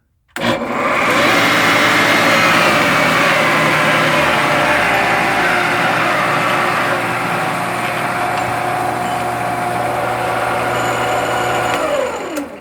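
A Shopsmith Mark V headstock runs steadily at speed after being oiled, a loud continuous mechanical whir with a constant tone that holds for about eleven seconds before cutting off.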